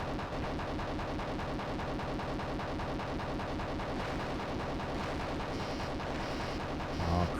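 A jet aircraft in a Desert Storm video game strafes and bombs a building with a continuous, dense roar of rapid gunfire and blasts. The sound is loud and steady throughout and swells slightly at the very end.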